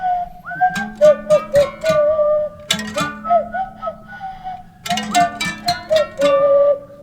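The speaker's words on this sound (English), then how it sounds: "I added this tin harp to the main melody, and it sounded like this." A tin harp carries the main melody of a goblin-themed song, a reedy bending tune over a plucked bass line in repeating phrases, loud and close with no voices.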